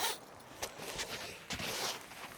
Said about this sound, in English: Got to zip through the middle.